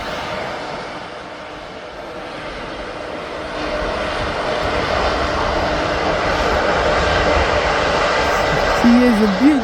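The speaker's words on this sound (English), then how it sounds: "Dreamliner is going to go onto the taxi to the runway" A Boeing Dreamliner taxis toward the runway at an airport, its jet engines giving a broad, steady roar that swells gradually, heard from some distance with a voice talking over it.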